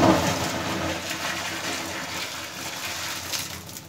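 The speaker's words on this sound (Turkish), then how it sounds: "uzak durarak mesafeli bir şekilde buraya sıcak suyumuzu döküyoruz" Hot water is poured into a bathroom drain, making a loud gushing rush that starts strong and then eases into a steady, splashy flow. The pouring is close and there is no talking.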